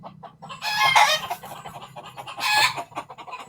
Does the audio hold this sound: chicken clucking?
yes